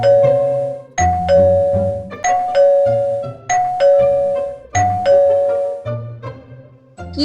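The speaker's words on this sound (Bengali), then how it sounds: "দরজাটা খোল না, কলিং বেলটা বাজছে তো" A two-tone ding-dong doorbell rings loudly and repeatedly, about six chimes in steady succession, each bright tone ringing out and decaying before the next, with no talking over it.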